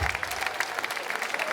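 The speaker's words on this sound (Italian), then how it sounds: "Voglio un applauso per questo vecchiotto" Outdoor summer evening show in Piazza Manzoni, Jesolo: a crowd claps steadily in a dense, continuous patter, moderately distant and fairly quiet for the short stretch, with no speech.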